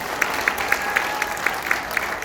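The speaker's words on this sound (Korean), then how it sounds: "다시 한번 박수 부탁드립니다." Audience applause at a lecture gathering, a soft wash of clapping with sharper individual claps popping out in a steady rhythm, moderately near and alone without talk.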